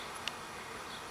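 Two small clusters of swarming honeybees hang in a tree in the woods and give off a faint, continuous buzz, with one brief sharp tick near the start.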